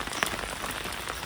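Rain falls on a village roof in a dense, steady patter, faint and even throughout, with one sharper drip standing out briefly.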